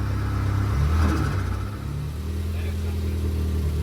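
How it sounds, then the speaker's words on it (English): A Ford Focus ST engine revs in a short, rumbling burst, then settles into a steady idle. A faint hiss from a blow-off valve may sit under the engine noise. "That was your blow-off valve."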